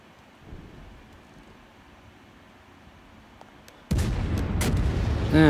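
Warship guns firing in World of Warships: a faint low rumble gives way to a sudden loud, booming blast of naval gunfire, followed by crackling, sustained noise and further sharp reports.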